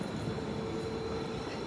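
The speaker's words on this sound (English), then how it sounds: "Beautiful train." Train at New Canaan station in Connecticut, a steady close rumble of rolling stock with a faint high squeal running throughout, no voices.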